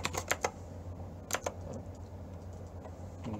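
Keys clatter on a computer keyboard in two short bursts of quick clicks, close and clear, with a quiet pause between them.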